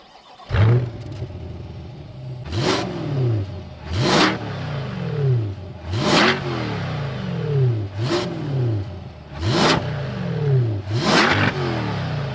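A C8 Corvette's 6.2-liter naturally aspirated V8 revving loudly and close, with about seven sharp blips, each rising quickly and then falling back, in a steady rhythm and with no talking.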